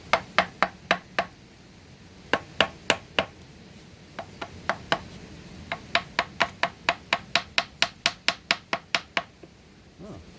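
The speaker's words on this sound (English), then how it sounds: "Sharp whacks with a piece of wood are probably in order at this point." Sharp, repeated whacks from a piece of wood in irregular bursts, some quick runs and some spaced out, striking a car engine's water pump, with no voices.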